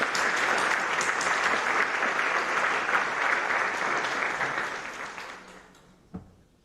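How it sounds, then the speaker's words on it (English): Dense audience applause at a high school senior awards night, loud and steady for several seconds before thinning out and fading, with one last clap near the end. "let's give him a round of applause"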